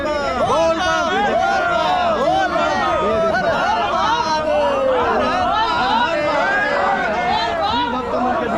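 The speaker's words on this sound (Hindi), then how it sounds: "शिव भक्त मन के भीड़ देखो आप" A dense crowd of Shiva devotees at Bhoramdev temple, a steady loud babble of many overlapping voices close by with no pause.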